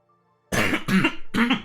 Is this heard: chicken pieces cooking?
no